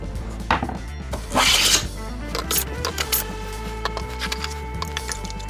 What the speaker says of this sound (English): Now I'm going to flatten the top of these using my hand plane.